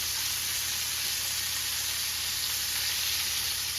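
Hand cut pork chops frying in a hot pan, a steady, close, bright sizzle with constant crackling hiss and no voices.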